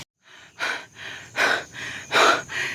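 Heavy panting after digging up a root crop on a mountain farm: five loud, ragged breaths, each a rasping burst, coming close to the mic at a steady rhythm with no talk.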